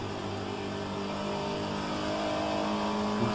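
A Pontiac race car at Road Atlanta roars steadily at high revs, a dense, loud engine drone with wind noise, carrying on without a clear break for an upshift.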